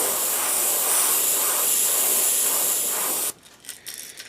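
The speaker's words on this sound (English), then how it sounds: "It does real good spraying out the pearl." An airbrush fitted with a 0.5 needle hisses steadily and loudly as it sprays pearl paint onto a fishing lure, then cuts off abruptly, leaving faint handling sounds.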